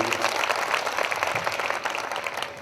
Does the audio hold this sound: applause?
yes